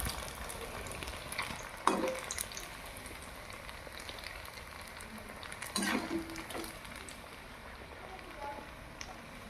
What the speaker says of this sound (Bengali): লাল লাল ভাজা ভাজা হয়ে গেলে উঠিয়ে নেবেন।